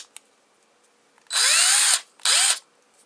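A Black and Decker BCD700S cordless battery drill driver runs in two bursts, a longer whine then a shorter one, each spinning up and winding down with a rising motor pitch, close and loud, with no talk.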